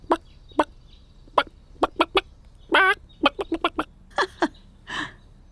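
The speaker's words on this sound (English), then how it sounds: "Those hens look wonderful running around." Hens cluck in a string of short, sharp calls with one longer squawk, close by and clear, with no talking.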